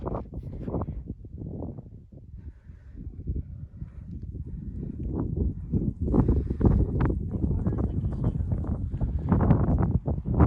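Gusting wind under Broken Arch in Arches National Park buffets the microphone in uneven rumbling surges, growing stronger toward the end, with no talking over it.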